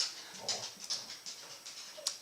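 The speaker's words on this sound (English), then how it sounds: "I apologize for my dog in the background." A dog whimpers and whines in short, faint, high-pitched bursts in the background of a quiet room, repeating irregularly over a couple of seconds.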